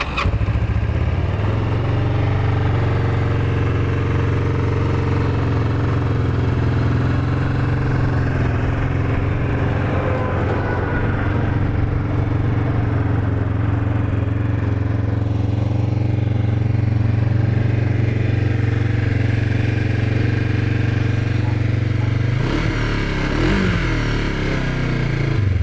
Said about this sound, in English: Quiet little motor, sounds nice and tight, no strange noises, revs up just smooth.